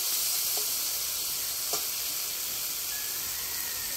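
Minced keema and potol (pointed gourd) fry in a pan with chopped chilli and salt, a steady close hiss and sizzle holding evenly, with a couple of faint clinks and no voices.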